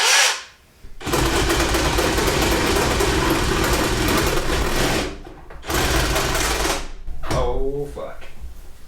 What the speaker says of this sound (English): we've got my jigsaw here with the only jigsaw blade that I own